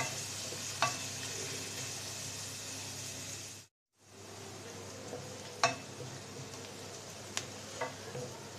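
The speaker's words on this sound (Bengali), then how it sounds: "পুরানির সাথে 2টা শুকনো মরিচ ভেজে নেব" Two dried red chilies fry in oil in a pan alongside fish-head pieces, a continuous soft sizzle broken by occasional sharp stirring clicks and a brief pause, close and moderately loud.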